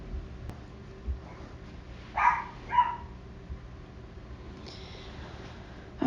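A dog barks twice in quick succession in a quiet indoor room, sounding moderately close, with a softer third yelp a few seconds later over a low steady hum.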